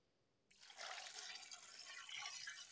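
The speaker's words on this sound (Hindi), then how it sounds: "ये पानी ऐड करेंगे पकाई के लिए।" Water is poured steadily into a cooking pot for beef biryani, with a bright splashing and filling sound that starts abruptly and continues alone at a moderate level.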